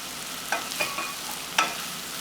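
A butter and flour roux pushed around a pan for a vegetable pot pie, soft continuous sizzle broken by a few scraping stirs from a utensil, close and fairly quiet.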